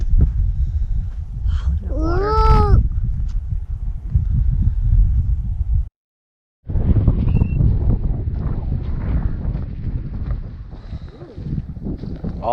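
Strong wind gusting outdoors in the Mammoth mountains, a loud continuous roar buffeting the microphone, briefly cut off, with a voice heard over it near the start.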